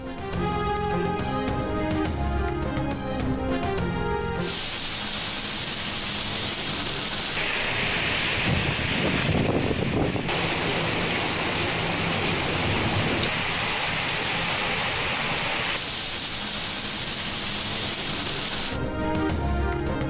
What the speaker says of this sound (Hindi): इस्लामाबाद और पंजाब के मुख्तलिफ शहरों में मूसलाधार बारिश।